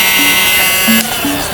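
An electric clothes shaver (fabric lint remover) runs with a loud, steady high-pitched buzz close to the microphone, with a few faint shifts in tone as it works.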